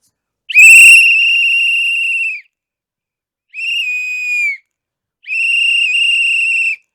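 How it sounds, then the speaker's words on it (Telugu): Three shrill whistle blasts, the TVK party symbol, sound loud and alone: a longer first blast of about two seconds, then two shorter ones separated by silence. "తమిళనాడులో విజిల్ మోత మోగించాడు"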